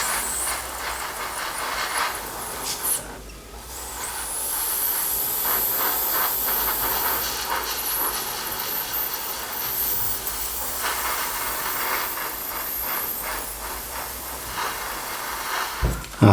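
An airbrush sprays Tamiya chrome silver paint onto an Airfix 1/48 scale Bristol Bulldog model, producing a continuous close airy hiss with brief dips and pulses and a short pause near the start.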